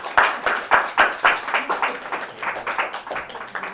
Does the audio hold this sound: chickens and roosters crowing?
no